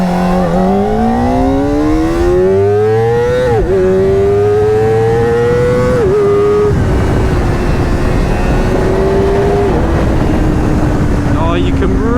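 A Kawasaki Ninja ZX4RR motorcycle engine revs up through the gears while riding, each rising whine breaking at a shift, loud and close under steady wind rush.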